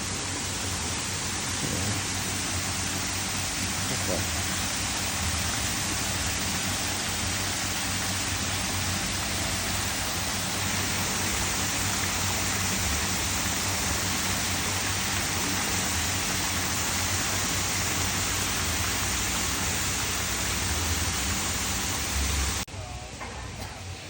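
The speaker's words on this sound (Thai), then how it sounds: "เราเดินมาใกล้เราก็เจอน้ำตกใกล้ๆมุมนี้นะครับ" A waterfall in a flower garden fair in Chiang Rai gives a continuous, loud, even rush of water that runs for over twenty seconds, then drops off sharply near the end.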